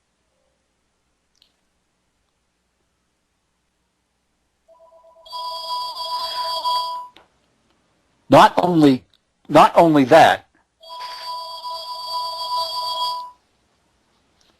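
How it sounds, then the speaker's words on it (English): A telephone rings in the background in two long electronic ringtone bursts, separated by a man's speech, each ring steady, repetitive and fairly loud. "I apologize for the phone in the background."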